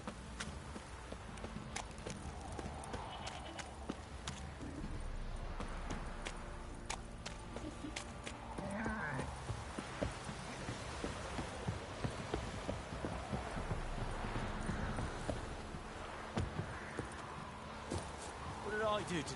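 Horse hooves clip-clopping in the video game Gerlat Forever, a soft, distant, irregular patter of hoofbeats running under speech throughout.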